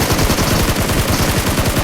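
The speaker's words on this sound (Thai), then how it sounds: "แต่ว่าเสียงปืนอยู่ไกลอะ่ะ" Rapid automatic gunfire in the mobile battle royale game PUBG Mobile, a dense rattling burst of shots repeating steadily throughout, loud and continuous with no talking over it.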